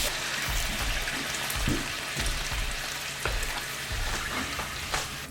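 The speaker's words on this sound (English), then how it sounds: "We're gonna deglaze the pan with some white wine." White wine hits a hot pan to deglaze it, giving a loud, steady hiss and sizzle close up, broken by soft clinks and stirring scrapes, with no talking.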